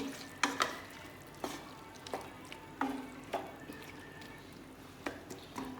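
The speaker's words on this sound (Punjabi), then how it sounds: "ਲੱਸੀ ਨੂੰ ਐਡ ਕਰਕੇ ਆਪਾਂ ਇਸ ਨੂੰ ਹਿਲਾਉਣਾ ਹੈਗਾ ਆ ਪ੍ਰੋਪਰਲੀ ਇਸ ਨੂੰ ਮਿਕਸ ਕਰਕੇ" Arbi cooking with lassi in a pan is stirred with a utensil, giving repeated scraping clinks and soft wet sizzling in an irregular rhythm, close and moderately loud.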